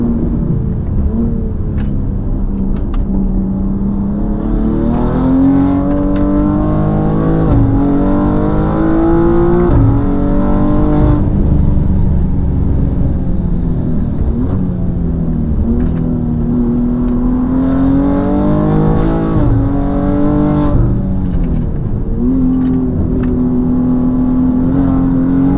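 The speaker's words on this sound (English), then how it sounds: "Not sure if you can hear the intake noises from the front." A 700HP BMW M2 on the road, with intake noise from the front and a wheel rubbing: a loud, continuous engine drone that rises and falls as it accelerates and shifts, steady throughout with no talking.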